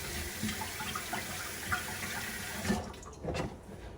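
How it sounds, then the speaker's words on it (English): Tap water runs steadily into a home sink while hands are washed, a close, even splashing rush that breaks into uneven splashes and drips toward the end. "I'm gonna go ahead and just wash my hands real quick"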